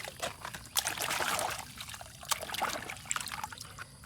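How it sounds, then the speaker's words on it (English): Water pours and trickles in bursts for a few seconds, splashing unevenly at close range with no talking. "I have to put some water."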